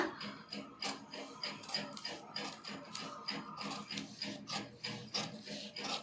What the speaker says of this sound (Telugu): ఇప్పుడు దీన్ని మనం కటింగ్ చేసుకుందాం ఇక్కడి నుంచి కటింగ్ చేసుకుందాం